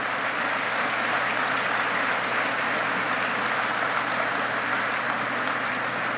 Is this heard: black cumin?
no